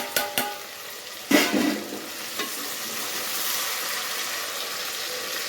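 Tomatoes and onions sautéing in a pan for a South Indian vatha kuzhambu, a few sharp clatters as ingredients are stirred, followed by a steady close sizzle and frying hiss.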